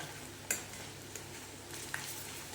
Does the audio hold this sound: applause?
no